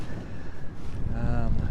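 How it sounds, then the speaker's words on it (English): Strong sea wind buffets a microphone on an exposed coast in a steady, loud low rumble, with no talk over it. "It is really windy."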